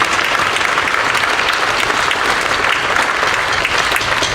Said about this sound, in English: Let's give a round of applause for everybody who's been involved tonight.